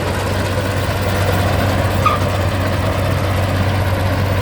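A Komatsu D80A bulldozer engine idling, a loud, steady low rumble that holds even throughout with no other sounds over it.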